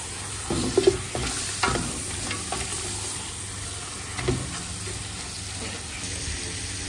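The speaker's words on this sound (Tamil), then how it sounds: "நல்லா கிளறி விட்டா நல்லா மிக்ஸ் ஆகி வர அளவுக்கு கிளறி" Curry with masala being stirred and fried in a hotel kitchen pan in Sri Lanka, with a soft continuous sizzle under several scraping stirs of a spoon, a few sharper clanks early on, and no talk.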